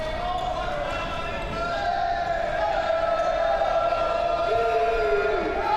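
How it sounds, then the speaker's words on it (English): A sitting volleyball crowd and teammates clap and cheer steadily for an Italian player's birthday during the 2022 European Championship match between Italy and Hungary, a loud sustained roar under an announcer's voice. "he get this clapping from the public and from his teammates"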